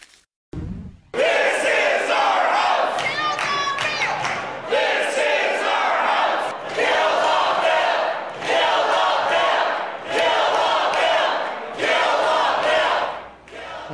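A loud crowd of protesters in Michigan shouts and chants in repeated surging bursts, with brief lulls between each roar. After a short silent gap at the start, the massed yelling stays close and dense.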